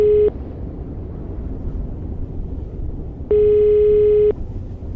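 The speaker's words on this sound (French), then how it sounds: "J'ai sorti mon téléphone et j'ai composé le 911." A phone call placed to an emergency number, heard as a steady electronic ringback tone in two bursts: a short one at the start and a longer one about three seconds later, with quiet rumble between.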